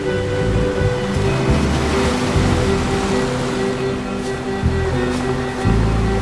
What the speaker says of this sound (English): Here, the loudest thing was the sea.